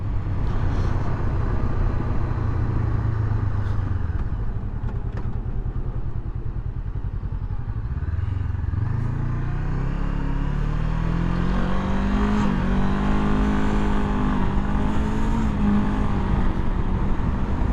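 A used 2016 Honda CB500F with a slipping clutch drones and revs close by, its engine note sagging and then rising in pitch over a steady rumble, with no speech.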